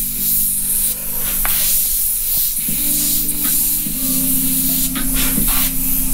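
An airbrush sprays paint onto a hat in graffiti style, a close, continuous loud hiss with a steady compressor hum underneath that briefly dips and resumes, with no speech.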